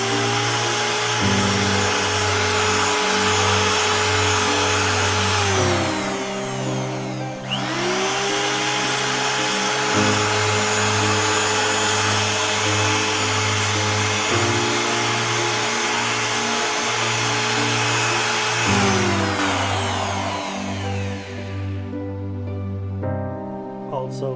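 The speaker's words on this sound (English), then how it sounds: "I use this tool quite a bit. It's a power file for taking edges off." A handheld power file grinds the edges off metal parts during assembly of the lower hull of a 1/6 scale Armortek Panzer III RC tank, a loud, steady motor whine with several pitch changes as it works, then stops near the end.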